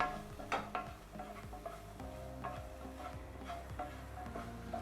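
Spice powders, coriander and chilli, being stirred in a pan for masala Maggi noodles, giving a steady soft scraping with a low sizzle underneath, close and fairly quiet throughout.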